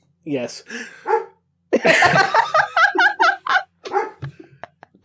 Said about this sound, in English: And that's my dog agreeing with you.